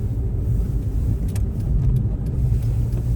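A car rolls steadily along a slippery, snow-covered road in Canada, its engine and tire rumble a continuous close drone with no talk over it.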